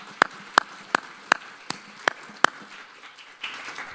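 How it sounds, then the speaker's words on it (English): At a leadership breakfast event, slow, evenly spaced handclaps ring out one by one, about seven crisp claps in a quiet room, followed by a brief soft rustle. "So let's give a round of applause."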